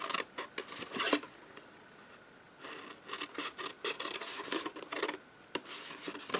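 Scissors snip through paper for a holiday treat holder, a series of sharp, close cuts in uneven bursts with short pauses between, crisp and moderately loud with no talking.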